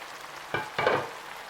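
Cabbage frying in a pan, a soft sizzle broken by two quick stirring scrapes close by, with no talking.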